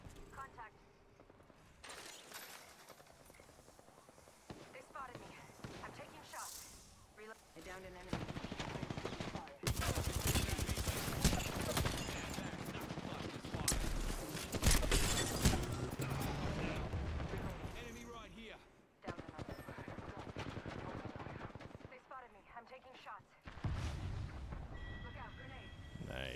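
Sustained automatic gunfire hits a player in Apex Legends, loud and close, with rapid rattling bursts that swell into a long barrage mid-way before thinning out, mixed with game effects and occasional talk.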